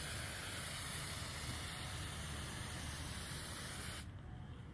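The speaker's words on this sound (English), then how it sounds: "when you're spraying the weed, you want to spray the whole thing" Roundup for Lawns weed killer sprayed onto lawn weeds such as crabgrass and nutsedge, a steady close hiss of spray running continuously for about four seconds before cutting off.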